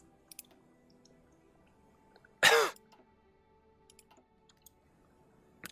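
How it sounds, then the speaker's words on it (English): A single short, sharp cough bursts out once in an otherwise quiet room, with a few faint clicks scattered around it. "don't know what's with my cough today."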